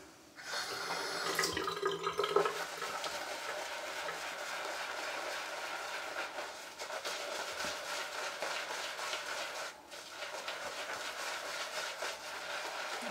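Water streams steadily from a tap while shaving soap is worked into a lather, a continuous close splashing hiss with a brief dip in flow partway through.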